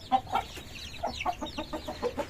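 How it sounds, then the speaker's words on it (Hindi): Village hens cluck in a flock as a new hen joins them, a string of short, close clucks in an uneven rhythm with no voices. "तो ये नई मुर्गी है"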